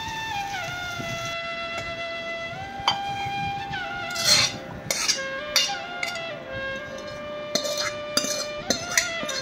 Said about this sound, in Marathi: आता आपण बाउलमध्ये काढून घेऊया.